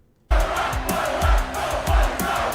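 A stadium crowd in the college football video game EA Sports College Football 25 bursts in after a brief silence and becomes a loud, sustained roar, with low thumps beating in a steady rhythm underneath.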